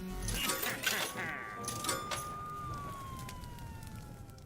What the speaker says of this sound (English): I don't know what caused that police siren.